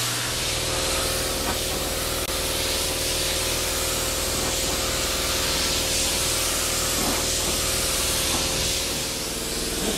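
Paint spray gun spraying paint onto the outside of a budget Chevrolet Sweptline pickup truck: a steady, loud, continuous hiss of atomized spray with a droning compressor or motor hum underneath, running unbroken throughout with no talking.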